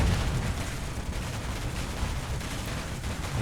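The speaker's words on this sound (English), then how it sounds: "So you don't have to wait for the missiles to explode before you fire another one." Missiles firing and exploding in the space game Space Engineers, a dense, loud, continuous barrage of booming blasts and rumbling detonations packed close together with no pause.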